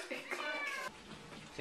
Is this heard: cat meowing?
yes